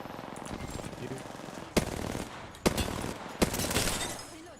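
Gunfire in a shooting video game, with several sharp shots and bursts over a dense game soundscape, loud and close, and a voice talking at times.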